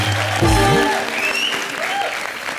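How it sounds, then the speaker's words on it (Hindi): Studio audience on a Hindi comedy show applauds for Krushna, loud clapping rising at once, with a brief voice over the start. "एक बार जोरदार तालियां कृष्णा के लिए"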